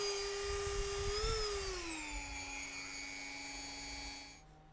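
A Dremel rotary tool whines steadily at high pitch with a small brush against a part, its pitch dropping slightly as it loads up, then cutting off near the end; loud and close, with no talk.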